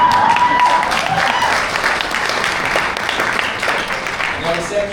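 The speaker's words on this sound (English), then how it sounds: "No exception for the applause." A crowd at a real estate conference keynote applauds, a dense wash of clapping that starts strong and tapers slightly over several seconds, with some voices mixed in.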